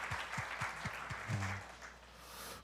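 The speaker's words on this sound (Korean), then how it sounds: "우리 하나님께 감사와 영광의 박수 올려드리겠습니다" A church congregation claps during a ninth-anniversary thanksgiving service, producing a steady wash of applause at modest level with a few low thumps and faint murmuring underneath.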